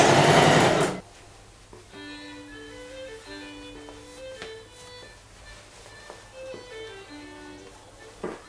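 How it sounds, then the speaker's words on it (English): A sewing machine stitches down trouser seams with a soft, steady mechanical whir. It sits low under light background music after a brief loud opening noise. "And I will just stitch down the seams the way I think is right."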